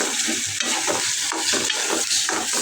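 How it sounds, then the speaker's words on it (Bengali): Chickpeas frying on a stove with ginger, garlic, onion and tomato give a steady, close sizzle with stirring scrapes throughout, and no voices. "এই চুলায় ছোলাটা বসাইতেছে আদা রসুন পেঁয়াজ টমেটো দিয়ে বাজিয়ে নিতেছে ভালোভাবে"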